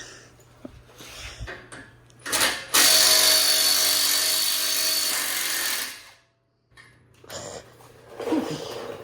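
Small impact gun working on a bolt during custom tie rod and light bracket fabrication, a loud sustained burst of about three seconds after some light clanks, then quieter shop noise.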